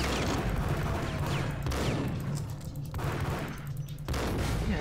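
Bursts of gunfire in the Max Payne video game, with rapid volleys of shots in several loud clusters separated by short lulls, up close.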